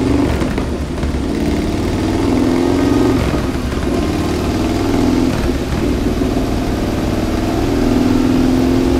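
A 2002 Harley-Davidson Dyna Super Glide with a 124 cubic inch engine runs on a dyno, giving a loud, continuous, throaty rumble that swells in repeated rev rises, close up with no talk.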